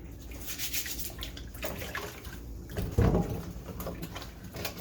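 Carrots being washed in a pan of water, with soft splashing and sloshing throughout and a louder, fuller slosh near the middle; no voices.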